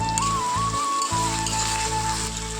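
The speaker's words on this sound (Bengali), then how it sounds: "এদিকে তেল গরম হয়ে গেছে দিয়ে দেবো পেঁয়াজ আর কাঁচা লঙ্কা আর দিয়ে দিলাম রসুন বাটা" Onion, green chili and garlic paste sizzle in hot oil, a steady, dense crackling hiss close by that holds throughout with no speech over it.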